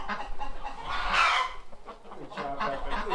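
Chicken clucking near a door on a snowy, windy farm, a string of close, loud clucks and squawks with one rising call, alone without talk.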